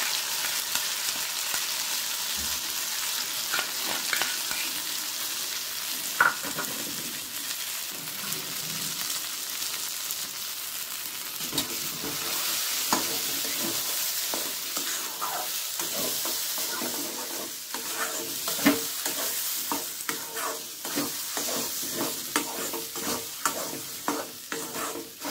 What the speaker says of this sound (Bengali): এবারে আমি এই কড়াইশুঁটিটা পেস্ট করে নিয়েছিল সেটা আমি কড়াইয়ে দিয়ে দেবো।